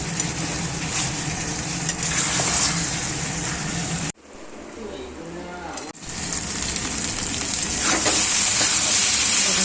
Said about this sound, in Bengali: চিকেনটা কষানো হচ্ছে, আর আজকে কাঁচা লঙ্কা বাটা দিয়ে করছি